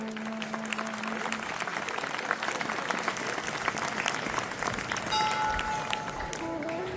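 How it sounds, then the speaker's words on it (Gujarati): An audience at a ceremony honouring pilgrims on a peace yatra breaks into steady, dense applause that fills the space throughout, with a voice talking faintly over the clapping. "ત્યારે આપણે સૌ તાળીઓથી વધાવી લઈશું."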